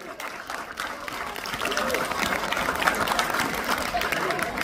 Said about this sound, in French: Donc on peut applaudir tous les bénévoles du club.